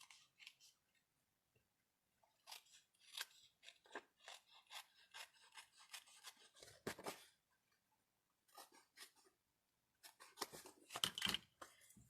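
Paper snips cut through Designer Series paper in short, crisp, rasping snips, some quick bursts and some slower strokes separated by pauses, close and quiet with no one talking.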